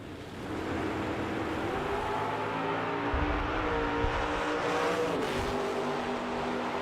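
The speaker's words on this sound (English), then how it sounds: "You can hear the drivers working the throttle" Drag racing cars at the 2020 U.S. Street Nationals, drivers working the throttle: a loud, steady engine roar that wavers and shifts pitch midway as the throttle is worked, continuous throughout with no voices.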